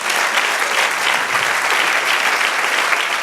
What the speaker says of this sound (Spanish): Denle otro aplauso al Señor